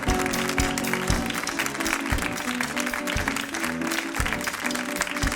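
Steady audience applause with cheering at a live French chanson concert, mixed with loud live music with a thumping beat underneath.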